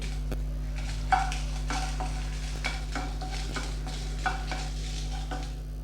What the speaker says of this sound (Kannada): ಒಣಮೆಣಸಿನ್ಕಾಯಿ ತೊಗೊಂಡಿದ್ನಲ್ಲ ಒಂಬತ್ತು ಅದು ಹಾಕ್ಕೊತಾ ಇದ್ದೀನಿ